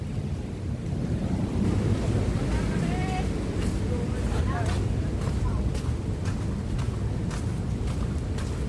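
Big ocean waves surge ashore as broadband rushing roar with wind buffeting the microphone, loud and continuous throughout, with brief crashing bursts later on.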